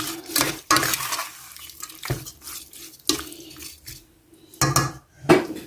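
A spoon stirs and scrapes gizzard and potato porridge in a cooking pot, several separate bursts of wet scraping and clinking with quiet gaps between, close by.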